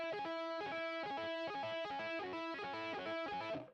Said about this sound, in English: When I first started doing tapping, it'd sound like this.